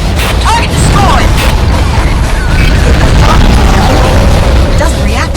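Explosions and booming blasts as a target is destroyed in the underwater PC combat game Aquanox, a loud, dense and continuous roar of crashes with a voice speaking over it.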